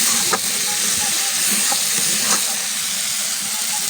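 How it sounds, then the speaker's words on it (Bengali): Red spice masala frying and bubbling in oil for a prawn and potato curry, a loud, steady hissing sizzle with a few faint spoon taps, no speech. "তেলটাও একদম চারিদিকে ফুটে উঠেছে"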